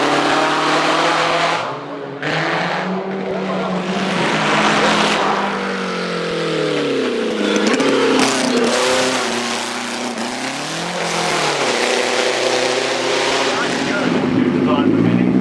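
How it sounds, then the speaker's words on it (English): Lightweight rubber-suspended Mini-based special climbing the hill at Shelsley Walsh, its small engine revving hard and rising in pitch through gear changes, loud and close with a continuous rasping drone, with a commentator's voice over it. "The rubber suspended lightweight special, conceived by Mini Pioneers Alec Issagonis George Dowson, is driven by Michael Fitzmaurice."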